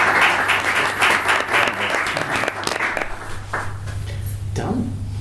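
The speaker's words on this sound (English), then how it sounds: "I think the panel definitely needs a round of applause." An audience applauds a panel at a business discussion event, with dense clapping that fades partway through, followed by a voice speaking over the last scattered claps.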